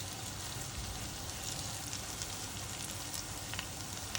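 Potato bites fry in cooking oil in a pan, giving a steady, quiet, dense sizzle and crackle that holds evenly throughout, with no talking.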